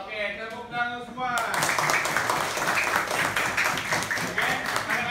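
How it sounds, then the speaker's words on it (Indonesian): A school class of children claps hands together in a classroom, steady rhythmic clapping from many hands that starts abruptly after a short tonal sound and continues close and fairly loud. "Oke, tepuk tangan semua."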